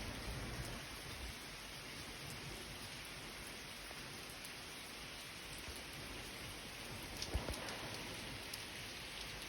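Heavy rain pours down steadily, a dense hiss of drops drumming on surfaces with no voices, plus one brief sharp knock near the end.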